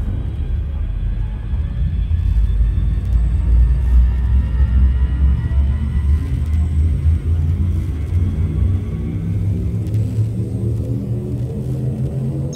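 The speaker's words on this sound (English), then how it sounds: "Frameshift drive charging" The frameshift drive charging aboard a ship in Elite Dangerous, a loud, steady low rumble with a rising tonal whine layered over it, building continuously for several seconds without pause.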